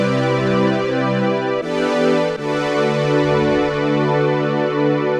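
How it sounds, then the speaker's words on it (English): Sky Keys synth pad preset Lift Tight plays sustained, lush chords that change twice, loud and alone with no voice over it. "This sound is called Lift Tight inside the Sky Keys pad section."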